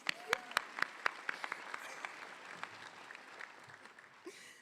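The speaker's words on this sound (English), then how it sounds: "A round of applause for Daniela" Applause at a nursing college commencement ceremony, with a few sharp, close claps up front over a broader crowd clapping that gradually thins and tapers off.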